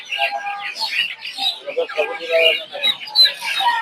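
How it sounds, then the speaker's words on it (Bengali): Busy chatter of many birds at a poultry market in Tongi, with Brahma and farm chicken clucks and chirps overlapping continuously, close and fairly loud, like a crowded poultry stall. "এদিকে হচ্ছে এগুলো হচ্ছে ফার্মি মুরগি"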